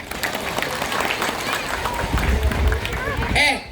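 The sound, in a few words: audience applause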